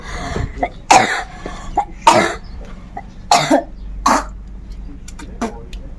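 Several harsh coughs come in short bursts spaced a second or so apart, close to the listener, with some quieter throat noises between them.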